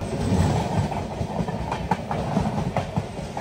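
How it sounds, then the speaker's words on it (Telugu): A long-distance express train out of Madgaon rolls steadily nearby, its wheels clicking over the rail joints in a continuous, moderately loud rumble. "మడగాం నుంచి ట్రైన్ అయితే బయటకు వచ్చింది."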